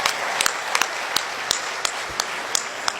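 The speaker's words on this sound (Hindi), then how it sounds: "एक बार तालियां और विष्णु जी के लिए बजा दे" Light, sparse applause from a poetry recital audience, a few distinct claps standing out over a soft murmur of the crowd.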